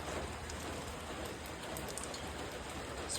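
Steady rain falls outdoors with wind, a constant dense hiss of drops hitting surfaces with no talk.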